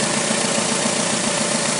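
A car engine idles steadily, with a close, even hum and rumble holding constant throughout, with no voices.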